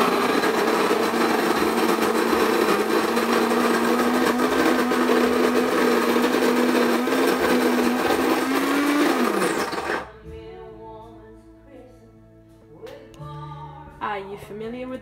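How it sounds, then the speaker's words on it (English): Coffee beans ground in an electric grinder: a loud, steady, whirring motor roar that rises slightly in pitch before cutting off after about ten seconds, followed by quieter, scattered sounds. "I'm gonna make some noise now while I grind this"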